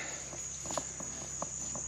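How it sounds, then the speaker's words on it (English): Crickets and other insects chirring at night in the Florida Everglades, a constant high-pitched drone with scattered nearby clicks and chirps. "Lots of bugs."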